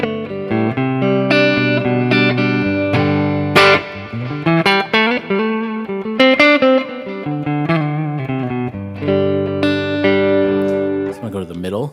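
Clean electric guitar with vintage Tele pickups, run through reverb and delay, plays a melodic line of ringing single notes and chords with lingering echoes, loud and close, with no talking.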